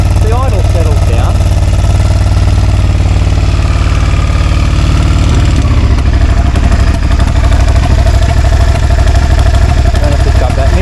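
A Suzuki SV650 first-generation motorcycle engine idles steadily and loudly close by, a continuous low rumble throughout with a slight change in tone partway through.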